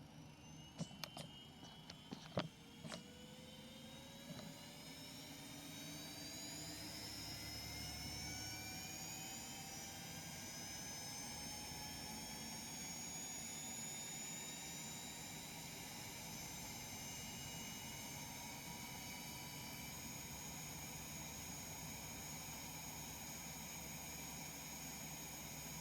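Cessna Citation X jet engines starting up in the X-Plane 12 flight simulator, a faint rising turbine whine that spools up gradually into a steady high hum after a few early clicks.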